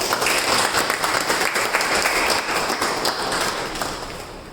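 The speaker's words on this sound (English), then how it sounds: "Let's give him a big round of applause." A Toastmasters club audience gives a steady round of applause, dense and continuous at moderate loudness, tapering slightly toward the end.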